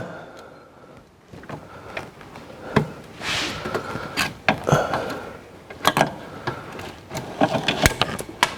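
A brittle plastic radiator fan plug pin on a 2006 Mini Cooper JCW is worked loose and snaps, heard up close as scattered sharp plastic clicks and cracks with faint creaks between them.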